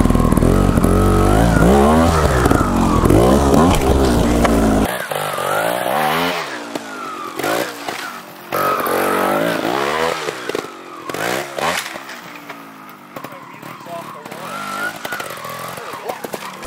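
A Gas Gas TXT 280 trials motorcycle engine revs hard and loud while climbing a wall, then drops to choppy blips and idling, with a voice talking partway through.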